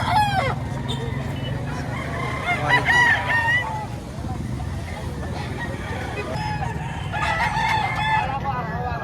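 Roosters crow repeatedly, near and loud, over a busy crowd murmur at a market in Padre Garcia, Batangas, with several birds answering one another.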